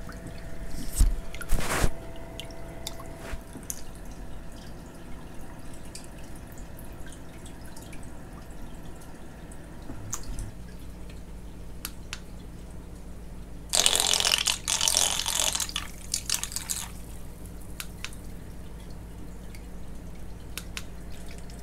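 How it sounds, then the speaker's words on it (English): A Nero 5 aquarium wave pump set high in a tank churns the water surface, making steady sloshing and dripping with splashy bursts, a loud spell of agitated splashing midway, and faint mechanical clicks throughout. "wow, this thing is pushing some serious water up here."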